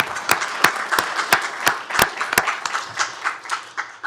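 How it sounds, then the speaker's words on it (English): A round of applause for a retiring Tarrant County employee at a commissioners court meeting, a modest group clapping with sharp distinct claps standing out, fairly close and fading slightly toward the end. "Let's give him a round of applause"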